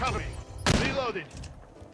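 A burst of game gunfire from a Call of Duty Mobile ranked multiplayer match played on a phone, a loud cluster of shots near the middle among fainter action sounds, with someone talking over it.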